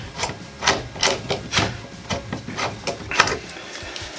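A hand rivnut tool cranks and squeezes to set a rivet nut into a metal van frame, giving a series of about eight evenly spaced ratcheting clicks and creaks, close and alone.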